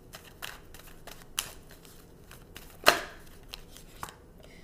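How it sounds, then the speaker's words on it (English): Tarot cards are shuffled and pulled with scattered soft flicks and taps and one sharper card snap in the middle, quiet and close, with no talk. "So we're going to pull one more card for Leo."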